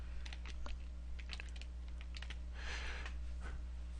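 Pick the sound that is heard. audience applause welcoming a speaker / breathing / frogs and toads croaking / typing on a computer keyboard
typing on a computer keyboard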